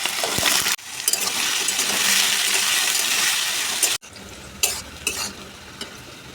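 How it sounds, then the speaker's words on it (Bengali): Bay leaf, panch phoron and potatoes hit hot oil with a loud, dense sizzle that runs for several seconds, then cuts off abruptly, leaving quieter crackles and a couple of clinks from a utensil. "তেল গরম হয়ে গেছে, এখানে তেজপাতা আর পাঁচফোড়ন দিয়ে দেবো ফোড়নে"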